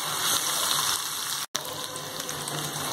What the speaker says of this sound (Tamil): ஒரு நிமிஷம் நல்லா வதக்கிக்கலாம்.